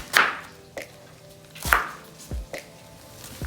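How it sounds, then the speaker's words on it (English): A knife rough-chops through ingredients on a cutting board, each stroke landing as a loud, crisp thud, about six chops spaced irregularly, close up with no talking. "I just like doing a rough chop."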